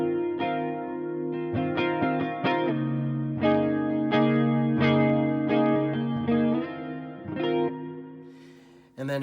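Electric guitar run through a Boss CE-1 chorus pedal with reverb, picked notes and chords shimmering with a wide, wavering chorus tone, loud and alone.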